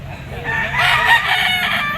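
An F1 White Kelso Firebird gamefowl rooster crows once, loud and close, in a single drawn-out call.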